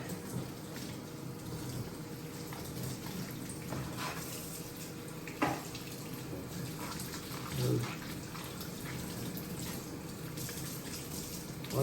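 Tap water runs steadily while farm-grown chicken feet are washed in a kitchen sink, a continuous splashing wash with a few brief clatters, and a voice talks over it.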